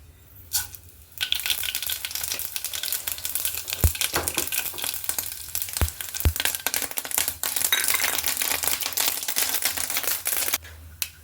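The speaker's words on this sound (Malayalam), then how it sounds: "അപ്പോൾ എണ്ണ ചൂടായി വന്നു. ഇനി നമുക്കിതിലേക്ക് കടുക് ഇട്ട് കൊടുക്കാം" Mustard seeds spluttering in hot coconut oil: a dense, close run of sharp pops and crackles over a constant hiss, with a few louder bursts as the popping builds.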